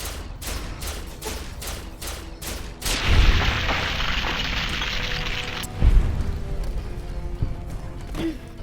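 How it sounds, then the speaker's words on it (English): Explosive charge blasting a hole through a fence in Fallout New Vegas: a run of sharp gunshots gives way to a loud booming burst with a rumbling tail, then a second deep thud. "Thought we blew a hole in the fence."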